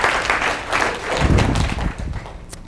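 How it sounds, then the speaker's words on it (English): An audience at a humor seminar breaks into a short burst of clapping that swells, then thins out and fades. "So give them both a nice round of applause."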